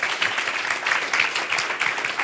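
Audience at a school-governance bill forum breaks into a round of applause, loud and close, a brisk, dense burst of clapping with no talk over it.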